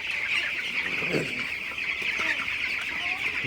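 Sixteen-day-old broiler chickens clucking and chirping softly at night in a steady, busy chorus, with no talking.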